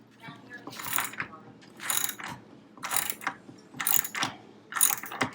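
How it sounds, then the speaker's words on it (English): A socket wrench ratchets while tightening an old table under repair, five quick clicking bursts at a steady rhythm with short pauses between, close and fairly quiet. "Like an actual socket wrench?"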